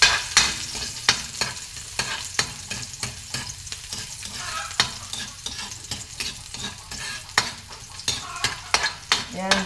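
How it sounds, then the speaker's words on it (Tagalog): Garlic fries in hot cooking oil for a fish and vegetable sauté, a continuous close sizzle broken by frequent sharp spatula scrapes and knocks against the pan in an uneven rhythm. "Igisa natin siya bawang"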